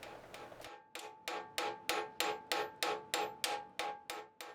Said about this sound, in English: I use the same process to rivet the cover plate into position